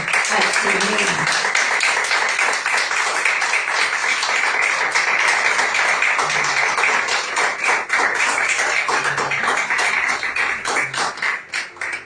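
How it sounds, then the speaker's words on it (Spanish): A church congregation claps loudly and steadily for about twelve seconds, a dense wash of hand claps with some voices mixed in, tapering off at the very end. "Dale un fuerte aplauso al Señor."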